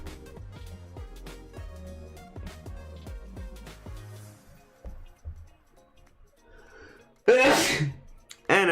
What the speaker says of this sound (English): Another very good sneeze.